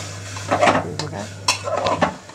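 Utensil scraping and clinking as vajri (goat tripe) is mixed with turmeric and salt in a kadhai, a few close metallic stirring strokes over a steady low hum.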